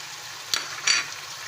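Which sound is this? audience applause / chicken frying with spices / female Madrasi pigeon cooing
chicken frying with spices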